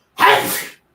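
A single loud, explosive sneeze, sharp and breathy, close by and short.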